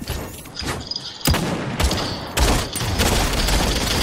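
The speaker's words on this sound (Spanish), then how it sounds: "Un disparo." Gunfire in the Realm Royale battle royale game: sharp loud shots at about 1.3 s, 1.8 s and 2.4 s, each followed by a sustained roaring barrage of fire and effects, with no talk over it.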